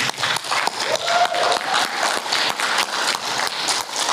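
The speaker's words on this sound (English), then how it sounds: "Let's hear it for Jeremy Davies." Sustained applause from a convention panel audience welcoming an actor to the stage, a dense, steady roar of many hands clapping for about four seconds with no break.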